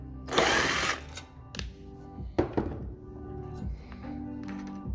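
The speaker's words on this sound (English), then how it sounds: "All right, unscrew one side." A screw is backed out of one side of a wooden DDR dance pad by hand, a brief whirring drill-like burst near the start, then scattered clanks, thunks and small ratcheting handling noises up close.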